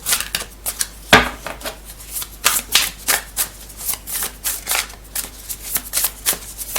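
A deck of tarot cards is shuffled up close, a run of quick papery riffles and flicks in an irregular rhythm, fairly loud and with no talk.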